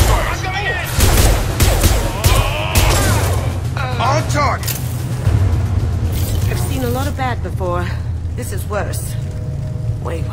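Gunfire from Blue Suns mercenaries and Vorcha in a Mass Effect 2 combat zone on Omega, rapid shots and booms crackling through the scene, with voices talking over the firefight.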